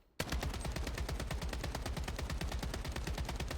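Assault rifle firing full-auto in the BloodStrike video game: one long, steady burst of rapid, evenly spaced shots that starts abruptly and stays loud and close the whole way, with no talking.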